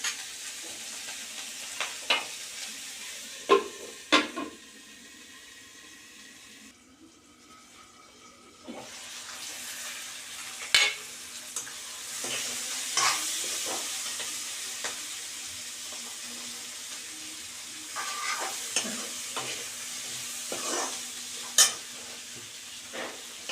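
Baby potatoes fry in a pan with a steady sizzle, broken by sharp scraping clicks of a spatula stirring them at irregular intervals, close and fairly loud with no talking.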